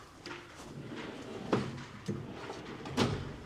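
A tool box drawer slides and knocks, giving a few sharp clunks and scrapes at spaced intervals over quiet room background, moderately close, without talk.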